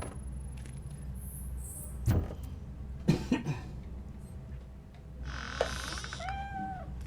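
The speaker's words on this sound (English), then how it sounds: "The cat is fine." A cat in the game Robocop Rogue City gives a few meows and throaty cries over a low background hum, with scattered faint clatter between the calls.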